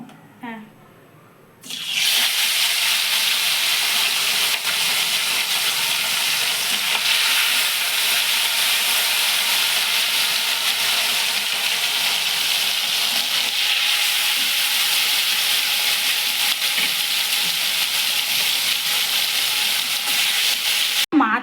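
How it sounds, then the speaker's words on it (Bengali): Bhetki fish pieces frying in hot oil, a steady loud hiss and crackle that starts abruptly after a brief pause and continues without a break to the end. "ভেটকি মাছগুলো আমি ভেজে নেব"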